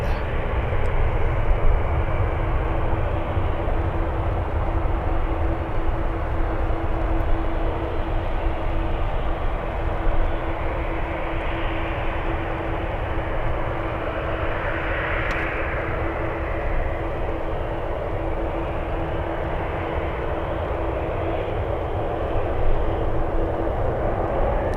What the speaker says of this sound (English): All right, there goes the Alaska